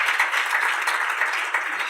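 Dinner audience at a CEO awards event claps for a company team, a brief, even burst of many hands at moderate level with no speech.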